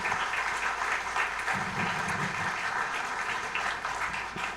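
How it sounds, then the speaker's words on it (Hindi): Steady, dense applause fills a ghazal night hall as the audience welcomes the evening, an even wash of clapping throughout with no voices over it. "एक बार जोरदार तालियां बजाकर आप अपना स्वागत करें"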